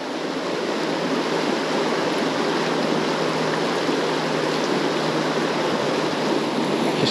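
Fast-flowing water of the river Ayr rushes steadily and loudly throughout, a dense, unbroken roar of a fast stretch used for salmon fishing, with no voices.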